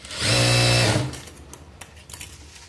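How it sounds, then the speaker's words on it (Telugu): A sewing machine double-stitches the back piece of a blouse, giving a short loud whirring run close by that stops after about a second, followed by faint clicks and handling sounds. "పైనుంచి డబల్ స్టిచ్ వేసేసుకోండి"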